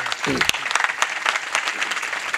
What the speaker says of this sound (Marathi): सर्वांनी जरा जोरात टाळी वाजवा यांच्याकरता, जोरात